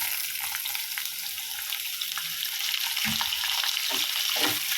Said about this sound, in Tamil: இதையும் சேர்த்து நல்லா ஃப்ரை பண்ணி ஃப்ரை பண்ணி எடுத்துக்கலாம்